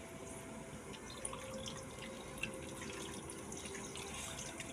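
Water poured into a pan of chicken feet being cooked Bicol express style, a soft, steady splashing trickle heard faintly and alone.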